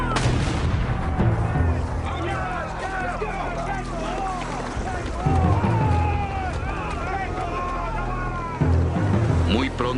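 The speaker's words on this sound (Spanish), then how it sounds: "A las 5:30 de la tarde, un disparo retumbó desde el navío almirante de Scott." A cannon fires from a naval flagship in a war-era documentary, with deep booming bursts and surf-like rumble beneath a narrator speaking over the scene.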